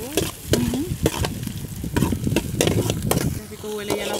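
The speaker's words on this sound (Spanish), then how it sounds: "Y ahí se va a comenzar a sofreír el ejote, ¿cómo se llama? La cebolla, chile verde. Y el tomatito." Onion, green chili and tomato sauté in a pan for a green bean dish, with loud scraping stirs and clattering utensil knocks over a steady close sizzle; no talk.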